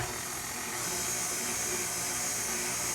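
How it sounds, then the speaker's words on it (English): A KitchenAid stand mixer runs steadily as it kneads potato bread dough, giving a continuous loud motor whir with a high whine and no pauses. "And then we get the KitchenAid started"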